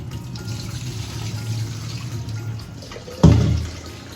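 Rice is rinsed under a running kitchen tap, a steady low stream of water with a sudden louder splash near the end, close by and without talk.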